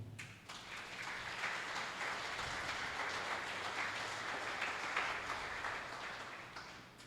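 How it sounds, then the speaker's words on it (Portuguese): Congregation applauding during a church service, a steady dense wash of clapping sustained for several seconds at moderate distance, swelling slightly midway and tapering at the end, with no speech over it. "Então aplauda o Senhor."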